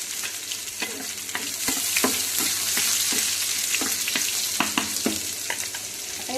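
Crushed garlic sizzles in hot oil with cumin and curry leaves, a steady close frying hiss broken by repeated stirring scrapes and taps against the pan, with no talking.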